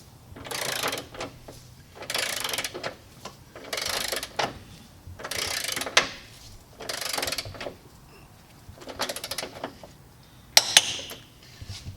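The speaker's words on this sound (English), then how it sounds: "you're going to get your torque wrench. You're going to set it at 90 foot-pounds" A torque wrench set to 90 foot-pounds tightens subframe bolts on a Genesis coupe, giving about eight bursts of rapid ratcheting clicks in a regular rhythm with brief pauses between, close and fairly quiet, plus a sharp metallic click near the end.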